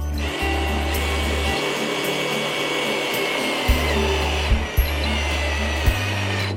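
A power screwdriver drives screws through a wooden slat into a pallet bench frame, its motor whining in steady bursts with brief pauses and a few clicks as the screw seats.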